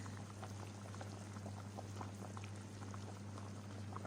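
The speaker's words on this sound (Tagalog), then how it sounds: "So ayan guys, kumukulo na." A pot of water boils steadily while stuffed eggplant and zucchini cook in it, a faint continuous bubbling and simmer over a low steady hum, with no talking.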